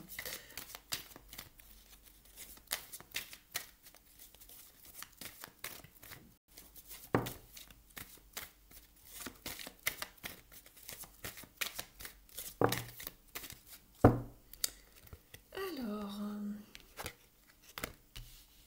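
Tarot cards shuffled during a love reading: soft, scattered riffling and card slaps recur close by, with a few sharper flicks and a brief voiced sound near the end.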